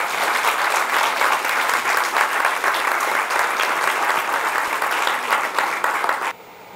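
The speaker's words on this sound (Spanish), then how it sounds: "Un fuerte aplauso para ellos." Loud, sustained applause from a standing audience at an education inclusion forum in Santo Domingo, a dense wash of clapping that fills the room and then cuts off abruptly near the end.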